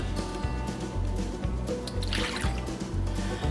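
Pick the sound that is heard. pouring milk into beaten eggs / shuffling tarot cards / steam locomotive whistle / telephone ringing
pouring milk into beaten eggs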